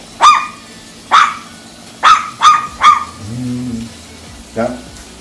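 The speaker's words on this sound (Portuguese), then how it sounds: "Os cachorrinhos." Small dogs barking in a home kitchen: five sharp yips in an uneven rhythm, a low whine in between, then one more bark, loud and close, with no talk.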